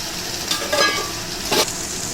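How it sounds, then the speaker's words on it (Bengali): Potatoes and eggplant with nigella seeds, salt and turmeric fry in oil in a kadai, a steady sizzling hiss broken by two brief scraping stirs. "আর কড়ার তেলের মধ্যে আমি আগে আলু বেগুনগুলো দিয়ে নুন হলুদ দিয়ে ভেজে নেব।"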